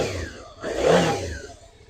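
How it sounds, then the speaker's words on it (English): A 2017 Suzuki DL 650 XT V-Strom motorcycle engine idles, then is blipped into a brief, rising rev that peaks and falls back, heard close and clear. "Sounds like a proper bike."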